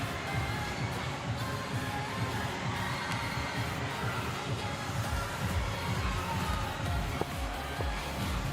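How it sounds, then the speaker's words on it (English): Crowd noise at a volleyball game, a steady roar of cheering and shouting voices that holds for the whole stretch, with a sharp clap or bang near the end. "Hear the crowd ignite."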